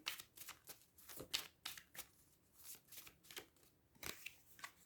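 Tarot cards are shuffled by hand in quick, close riffles and soft slaps, a fast irregular burst of papery flutters repeating throughout, quiet and alone without talk.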